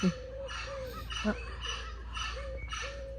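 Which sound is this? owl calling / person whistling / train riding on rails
owl calling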